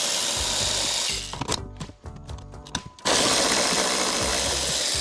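A power drill running steadily as it drives out 10mm bolts from a truck bed floor during a Traildeck install, loud and continuous, breaking off into a few seconds of clicks and clatter before whirring again.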